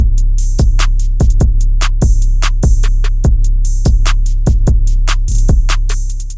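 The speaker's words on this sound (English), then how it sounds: "And with the kick, it sounds even better." A kick drum and 808 bass pound together under a pitched-up soul sample, with punchy, evenly spaced low thumps and sharp high hits repeating in a loud, steady beat.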